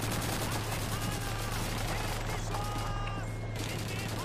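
Bursts of machine gun fire in Call of Duty 2 crackle through a dense battle din, rapid rattling volleys repeating over several seconds with a steady low hum underneath.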